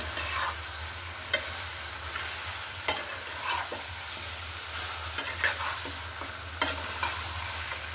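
Duck meat sizzling in a pan with coconut while a utensil stirs and scrapes through it, steady frying hiss broken by several sharp scraping strokes, close and loud.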